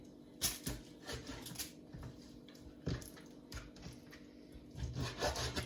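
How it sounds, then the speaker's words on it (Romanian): Knife chopping raw pork liver into small pieces on a wooden board, irregular close cutting and rubbing strokes with a few sharper thuds, no talking. "Ficatul la fel, o să-l tai la fel bucățele."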